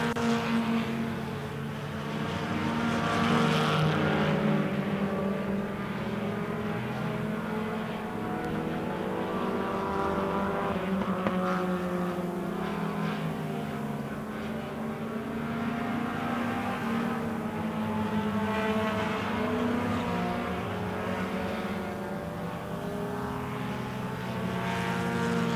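Four-cylinder division race cars roar around the track in a sustained pack, engines droning and shifting pitch continuously at a steady, loud level with no pauses.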